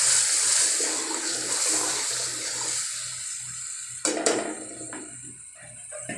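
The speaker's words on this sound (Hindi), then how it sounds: "अब हम इसमें थोड़ा सा पानी डालेंगे ताकि हमारे जो ये मसाले हैं वो अच्छी तरह से गल जाएं।" Water pours into a spice mixture in a cooking pot while making aloo baingan sabzi, a steady splashing stream that thins out and gives way to a few sharp clinks near the end.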